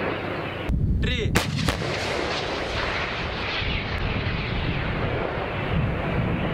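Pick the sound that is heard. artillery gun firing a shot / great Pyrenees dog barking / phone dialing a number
artillery gun firing a shot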